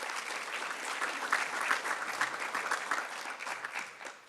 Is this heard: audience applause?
yes